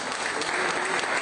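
A church congregation applauds in a brief, dense burst of clapping at steady loudness.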